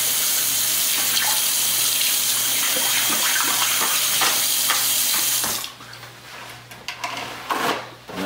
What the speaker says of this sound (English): I'm gonna wash my hands off just a second here.